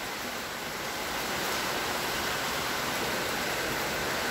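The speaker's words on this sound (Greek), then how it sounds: "Έχει πολύ αέρα και δυναμώνει κι άλλη βροχή." Heavy rainstorm lashing Athens in strong wind, a dense, steady roar of rain and gusting air that fills the whole clip at constant loudness, with no voices.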